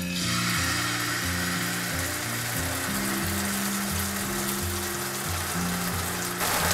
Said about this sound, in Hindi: तवे को हमने तेल से ग्रीस कर लिया है। अब हम बैटर को कलछी में लेंगे और तवे पर